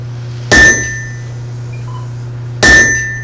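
A blacksmith's hammer strikes hot metal on an anvil at a blacksmith event, two loud, ringing clangs about two seconds apart, each with a sustained metallic tone that fades, close up and with no talking.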